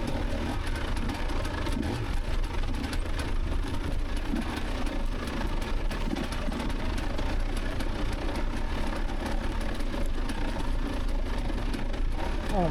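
GPX 300 TSE motorcycle ridden in first gear on an off-road ridgeline trail, its engine a steady close drone with wind rumble throughout, no clear revving peaks.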